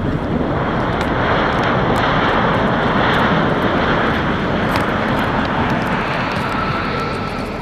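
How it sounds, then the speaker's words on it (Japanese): A loud, continuous roar of a large passenger airliner's jet engines at Fukuoka Airport, heard from within the airside restricted area, broadband and steady throughout with no voices. "そうですね、大きい飛行機です。"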